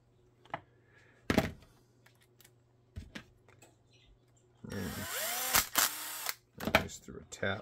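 Power drill cutting through a coated tap: short bursts of whirring drilling and a sustained grinding stretch, broken up by sharp knocks and clunks, with quiet gaps between.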